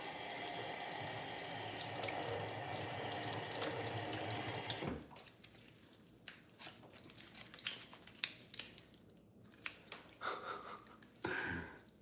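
A kitchen tap runs loudly into a sink for about five seconds while frozen beef is defrosted under the water, then cuts off, leaving quieter handling clatter and light splashes.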